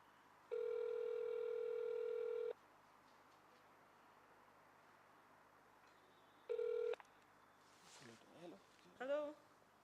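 Phone keypad dialing tones ring out while calling someone, a long steady tone then a second shorter burst of tones, followed by faint voices talking in the background.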